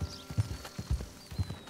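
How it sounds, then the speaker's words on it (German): A horse gallops in Red Dead Redemption 2, its hooves striking in quick, regular three-beat clusters, with soft muffled thuds at moderate volume and a faint background tone. "wenn man im Takt mit dem Pferd galoppiert"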